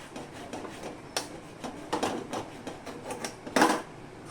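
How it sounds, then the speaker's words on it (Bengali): Boiled potato is rubbed across a grater, giving a quick run of soft rasping strokes in an uneven rhythm, close and fairly quiet, with no talk. "এবারে সেদ্ধ আলুটাও সেম একইভাবে এরকম করে গ্রেট করে নেব"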